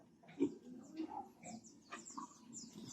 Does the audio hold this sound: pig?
yes